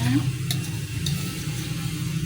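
Shrimp mixture sizzling steadily in a small amount of hot oil, a continuous close frying hiss with faint stirring and brief utensil clicks.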